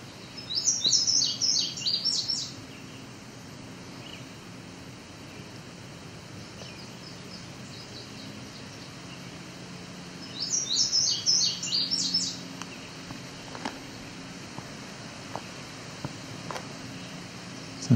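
Outdoor birdsong with a red-eyed vireo and an indigo bunting, two clear bursts of high, rapid chirping phrases separated by a long quiet stretch with faint distant calls in between.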